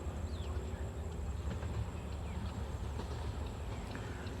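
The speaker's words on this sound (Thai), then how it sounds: "ด่วนพิเศษทักษิณรัฐที่31นะครับกำลังจะผ่านบริเวณ ชุมทางหนองประดุกนะครับ" An express train hauled by a Hitachi diesel locomotive, number 4518, passes a rail junction on a misty morning in Thailand, giving a steady rumbling roll with faint rhythmic wheel clatter, heard at middle distance.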